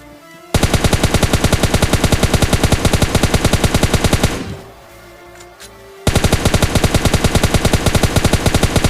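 Automatic gunfire in the mobile shooter PUBG Mobile Lite rattles in loud, rapid, evenly spaced bursts, breaks off briefly into a quieter pause with faint game noise, then resumes at full volume.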